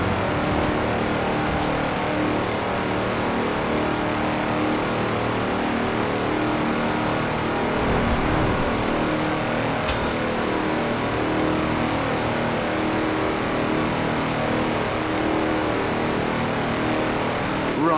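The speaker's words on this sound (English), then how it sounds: "That's a new tractor speed record and some impressively fast farming." A tractor on big mud tyres speeding in the video game Forza Horizon 4, its engine a steady loud roar throughout with brief sharper revs, no talk over it.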